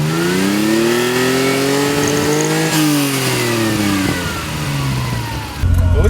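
A 1973 Ferrari Dino 246 GT engine revving up and falling back several times at close range. The pitch rises and falls in smooth sweeps before settling toward idle.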